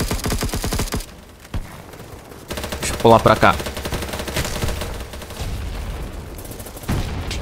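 Bursts of gunfire in the online shooter BattleBit, loud rapid shots with short pauses between them, and a player's voice speaking briefly over the action.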